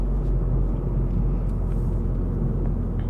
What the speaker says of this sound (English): I am, again, driving a Mini John Cooper Works.